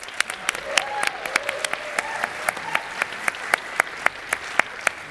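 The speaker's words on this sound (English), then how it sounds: "Let's have one more round of applause." Audience applause at a game audio awards ceremony, a steady wash of clapping from a large crowd with sharp individual claps cutting through, sustained for the whole stretch.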